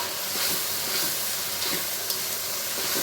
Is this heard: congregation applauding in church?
no